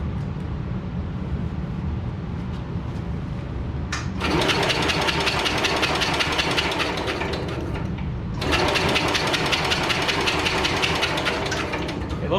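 A 1968 Super 12 garden tractor engine cranking and sputtering in two long loud bursts of rapid mechanical clatter, separated by a quieter pause, close by.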